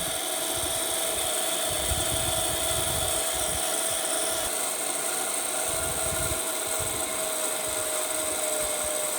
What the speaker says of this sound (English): The motor RPM reduces gradually